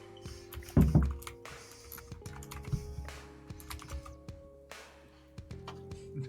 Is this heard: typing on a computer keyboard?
yes